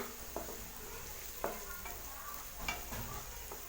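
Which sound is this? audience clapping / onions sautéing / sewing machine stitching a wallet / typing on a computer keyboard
onions sautéing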